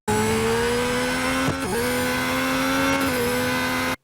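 A race car in Real Racing 3 at Monaco holds a loud, steady high-pitched engine whine, dipping briefly with a gear change or lift before pulling on again, alone without voices.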